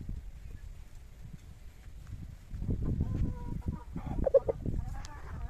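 Pakoy rooster of the batu rantai type clucking and stirring nearby, with soft scuffling and a few short calls rising over a low background hum.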